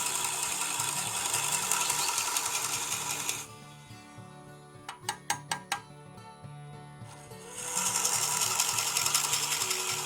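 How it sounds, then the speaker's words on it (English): Drill bit boring a hole into a wooden Christmas ornament turning on a slowed-down lathe, a steady whirring grind that cuts out midway to a quieter stretch with a few sharp clicks and taps before the boring resumes. "when you're using that drill bit, you want to slow that lathe down"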